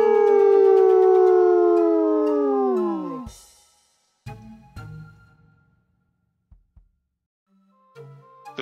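A voice imitates a long, wavering Grizzimal howl that slowly falls in pitch for about three seconds, followed by a few faint scattered noises.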